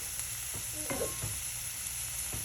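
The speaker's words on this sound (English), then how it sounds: "I'm gonna saute it for a little bit" Egg omelette cooking in a cast iron skillet, a steady low sizzle with faint scraping stir strokes and a couple of soft clinks, close and continuous with no talking.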